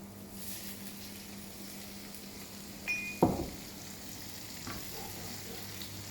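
Chopped omelette vegetables sizzle steadily in an oiled pan on the hob, with a low hum underneath and a single metallic clink and scrape partway through.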